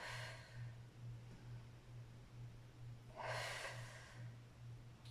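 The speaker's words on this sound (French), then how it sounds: "Inspire, expire." Breathing in and out during a guided pelvic-floor and abdominal exercise session: one long, breathy exhale bursts up clearly near the middle, set against a faint earlier breath and a steady low hum.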